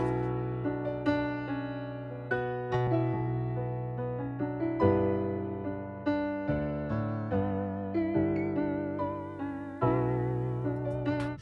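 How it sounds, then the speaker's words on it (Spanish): Kaelum Audio's Tape Cassette plugin, a cassette tape emulator, colours a steady run of piano-like chords, each struck and decaying in an even, unhurried rhythm, with no talking. "El primero es Tape Cassette de Kaelum Audio, que como su propio nombre indica, pues emula eso, los caracteres, el ruido de una cinta de cassette"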